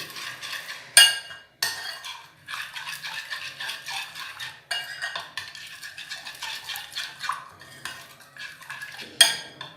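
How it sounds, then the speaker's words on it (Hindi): A metal spoon stirring ajwain and spices in a pot, repeated scraping and rattling strokes with a few sharp clinks against the rim, close and uneven in rhythm. "और अब इसको व्यूअर्स अच्छे तरीके से हम मिक्स करेंगे"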